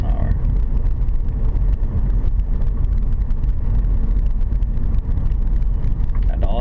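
A car rolls slowly down a residential street at about 30 km/h, its engine and road rumble steady and close, with constant low wind noise throughout.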